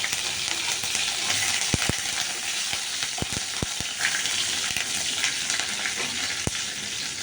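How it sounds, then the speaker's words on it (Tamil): Steady hiss of mustard seeds, urad dal and dried red chillies sizzling in hot oil, with scattered sharp pops and crackles over the constant frying noise. "கடுகு உளுத்தம்பருப்பு காஞ்ச மிளகா தாளித்து கொட்டிண்டாச்சு"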